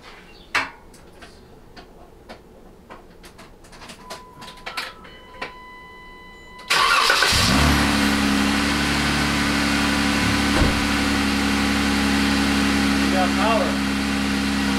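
Car engine cranking and catching after a Genesis dual battery with new Odyssey batteries is reinstalled. Quiet ticking and clicks come first, then the engine fires abruptly and settles into a steady, close idle hum.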